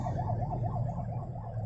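An ambulance siren wails in a steady rising-and-falling pattern over low city traffic rumble in Cebu City, fairly close and loud.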